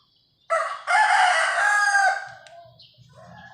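A rooster crows once, loud and close, a long drawn-out call that trails off, followed by soft low clucking from chickens.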